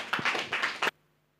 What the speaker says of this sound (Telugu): ఈ యొక్క సమయంలో మరి దైవజనులు వస్తూ ఉండగా అందరూ కూడా చప్పట్లు కొడదాం.